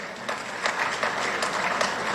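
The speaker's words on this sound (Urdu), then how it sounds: "فوکر صاحب ہمارے ایکسپورٹر ہیں تو انہوں نے تالیاں بجائیں سب سے پہلے." An audience at the Emerging Pakistan seminar in Lahore claps in a short burst of moderately loud, even applause that carries on throughout.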